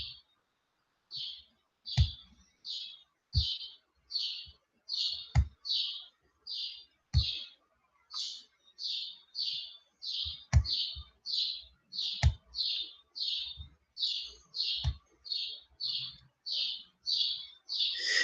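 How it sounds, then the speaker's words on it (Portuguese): A small bird chirps outside in a quick, steady series of bright, evenly spaced calls that run the whole time, with occasional sharp clicks underneath. "esse passarinho hoje, ele tá... Vai encher o saco a aula inteira"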